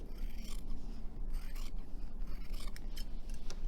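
Scissors snip and rasp through a foam chip pad packed with foam of several densities, giving soft, close, repeated cutting and scraping sounds at low volume.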